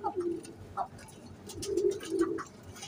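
A red-eyed breeder pigeon coos close by in soft, low repeated phrases, with a few brief higher chirps from other birds and a faint voice in the background.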